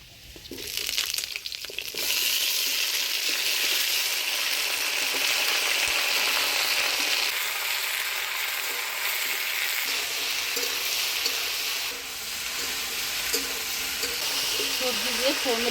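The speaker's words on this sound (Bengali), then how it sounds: "সবজি দিয়ে ফোড়নের তেলে ভালো করে নাড়াচাড়া করে নিলাম।" Mixed vegetables stirred in hot oil tempered with bay leaf, five-spice seeds and crushed ginger, a loud continuous sizzle with scraping stirs, close and sustained throughout, cooked outdoors on a winter morning for khichuri.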